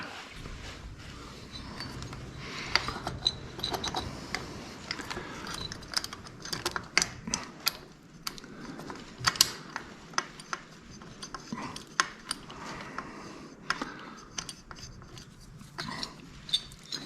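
Manifold bolts being started by hand on a Harley-Davidson Twin Cam engine during intake manifold installation, a quiet run of small metallic clicks and ticks under faint background noise.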